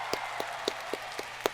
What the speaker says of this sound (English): Clapping from my side too.